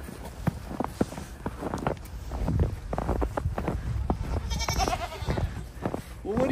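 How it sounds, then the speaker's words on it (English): Goats bleat several times in short, wavering calls, close by on a snowy farm, mixed with rustling and footsteps on the ground. "Let's go see some goats."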